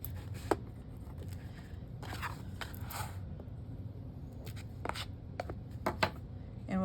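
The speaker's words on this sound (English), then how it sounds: "I just kind of rub my burnishing tool on the corners just to make sure that they're sharp" A burnishing tool is rubbed against the corners of folded paper for a Valentine's Day trifold folio, giving short, close, dry scraping strokes separated by brief pauses.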